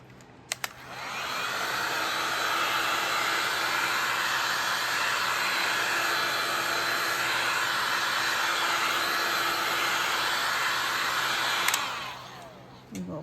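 A hair dryer blows a steady, loud, close whoosh for about eleven seconds, drying stencil paint on a metal piece, switching on with a click at the start and cutting off near the end.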